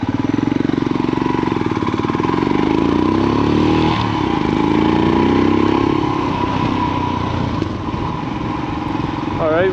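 A dusty Royal Enfield Himalayan motorcycle runs steadily throughout while being ridden, its engine drone loud and close with a constant rumble that never drops away.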